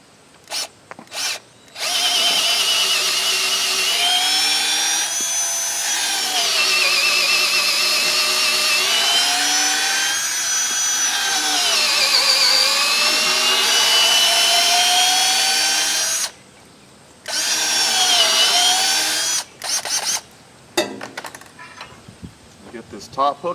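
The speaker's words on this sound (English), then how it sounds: "Get this one drilled." A power drill bores a hole during a gate installation on a homestead, its motor whining loudly and steadily for long stretches, rising and dipping in pitch, with a few short bursts and pauses before it stops.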